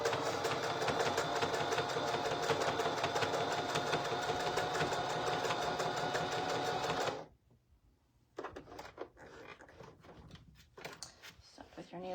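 A sewing machine stitches a quilt star applique onto a shirt, running in a loud, steady whir for about seven seconds before stopping, followed by scattered handling clicks and rustles.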